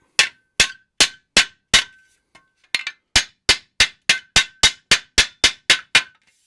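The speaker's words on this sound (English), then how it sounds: "now give it a few whacks with a hammer" About sixteen sharp, ringing hammer blows on a metal shelf seam resting on a concrete floor, struck in a steady rhythm with a short pause partway through, loud and close.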